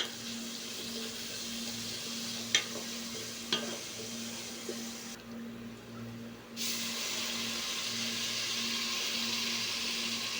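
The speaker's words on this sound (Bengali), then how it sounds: "আমি সবসময়ের জন্য পেঁয়াজ ভাজি করলে একটু লবণ অ্যাড করে দিই, যাতে তাড়াতাড়ি পেঁয়াজটা নরম হয়ে ভাজি ভাজি হয়ে যায়" Chopped onions fry with a little salt in a pan for hilsa khichuri, giving a steady broad sizzle with a low hum beneath, two brief clicks early on and a short quieter dip partway through.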